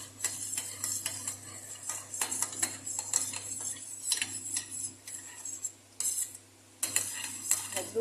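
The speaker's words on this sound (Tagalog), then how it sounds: "Mikos-mikos na lang natin para ating ma-achieve ang ating gusto." A spoon scrapes and clinks against a pan while a sticky dates candy mixture is stirred, giving irregular metallic taps and scraping strokes over a low steady hum.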